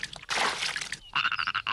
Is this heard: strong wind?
no